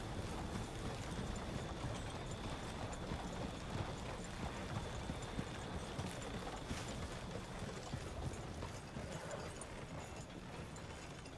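Horse hooves clip-clopping steadily as a horse-drawn coach rolls along in Red Dead Redemption 2, a continuous dense clatter of hooves and wheels heard up close without pause.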